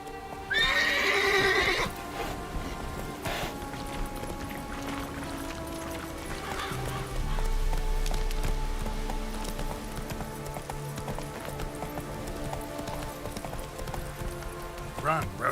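Roach the horse in The Witcher 3 video game, neighing loudly at first, then galloping with steady hoofbeats under a music score, with a voice heard in places.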